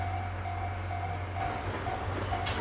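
A Tobu Railway train pulls into Shimoimaichi Station at night, a low steady rumble and hum with a faint repeating tone above it, heard close and alone.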